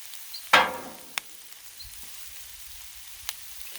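Seafood boil on a griddle gives one loud sizzling burst as ingredients hit the hot surface, fading over a second, with a sharp tap and quieter low clatter afterward, no talking.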